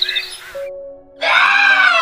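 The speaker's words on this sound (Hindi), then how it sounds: "तभी एक जोरदार चीख खामोशी को तोड़ देती है।" A loud, drawn-out scream in a misty hillside village at dawn, starting after a brief hush and holding strong and wavering to the end, following an earlier shorter cry.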